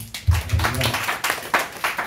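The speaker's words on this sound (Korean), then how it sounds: "주님께 먼저 영광의 박수 올려드리겠습니다." Church congregation applauding during a worship service, a short burst of several claps, moderately loud and close, with faint voices mixed in.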